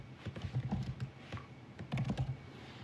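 Typing on a computer keyboard, with bursts of rapid key clicks in two clusters, close and fairly quiet, with no talking.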